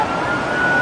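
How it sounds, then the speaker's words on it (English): A brief stretch of a police siren's steady wail in New York on 9/11, loud and continuous over a noisy street-like background. "now there's a lot of police activity and sirens"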